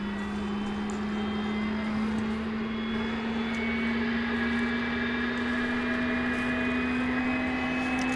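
An airplane at DFW Airport at night gives off a steady engine drone with a rising whine, continuous and moderately loud for about eight seconds.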